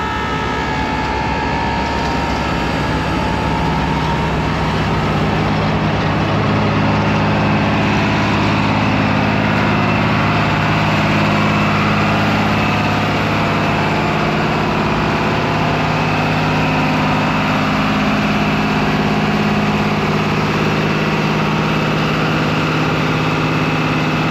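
A 2006 C500B truck engine idling steadily up close, a constant loud low rumble that holds without change for the whole stretch, with no voices over it.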